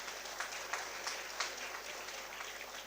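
Applause from the audience at a nursing research conference award ceremony, a steady, moderately distant clatter of many hands with no clear pauses.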